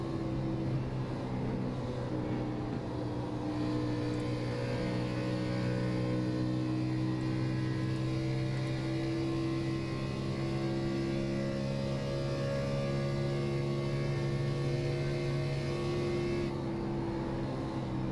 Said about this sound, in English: You'll hear how softly these drivers have to get back to the gas to keep from breaking loose of those rear tires